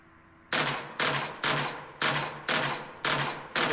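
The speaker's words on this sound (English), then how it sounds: "So this one, 2-shot burst, which is kind of odd" A two-shot burst weapon in the sci-fi shooter Angels Fall First: seven sharp, close reports fired at an even pace about half a second apart, each trailing a short ring, with no talking.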